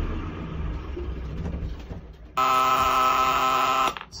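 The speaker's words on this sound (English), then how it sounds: "It's just the oil pressure alarm going off there." A loud, steady electronic oil pressure alarm tone sounds for about a second and a half after an old boat engine's low rumble winds down at shutoff.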